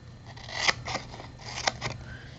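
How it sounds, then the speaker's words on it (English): Scissors snip the ends off inch-wide paper strips for a candy box craft, two crisp clusters of cuts about a second apart, close and fairly quiet. "And then I'm going to trim the ends just a little bit, turn it around and do the same thing."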